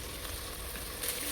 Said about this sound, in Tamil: இப்போது நல்லா வதங்கின பிறகு நம்ம கத்திரிக்காயும் சேர்த்து வதக்குறோம்.